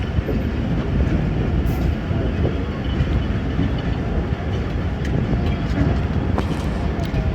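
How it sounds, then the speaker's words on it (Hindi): The Rehman Baba Express pulls into Lala Musa Junction at dusk, a loud, steady rumble of rolling wheels and carriages that carries on without a break. "लाला मूसा जंक्शन पहुंच गई है ट्रेन हमारी"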